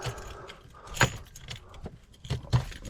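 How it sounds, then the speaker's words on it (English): Two sets of Mercedes Sprinter van keys jangle close up in a few quick metallic shakes and clinks, with a faint vehicle hum underneath. "Two sets of keys."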